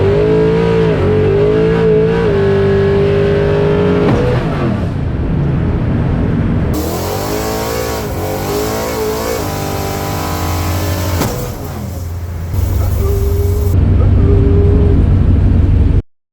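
Nitrous-boosted car with the mufflers off, revving hard and then launching, its loud raw engine roar rising and falling through several pulls before cutting off abruptly.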